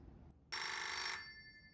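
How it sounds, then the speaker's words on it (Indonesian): A single short burst of a telephone bell rings loudly for about half a second, then fades with a lingering metallic tone in an otherwise quiet room. "Tolong angkat telepon."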